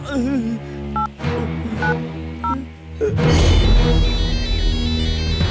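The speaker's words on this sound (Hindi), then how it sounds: "लगाओ धनुआ को फोन" Several short dialing beeps sound in sequence over a background of music and noise, followed by a louder rush of sound.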